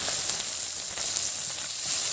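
Green chillies and chopped spring onion sizzling in hot oil, a bright, steady hiss that fills the whole short stretch without pause.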